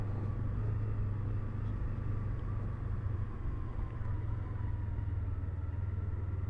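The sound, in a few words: Yamaha MT-25 motorcycle riding to the office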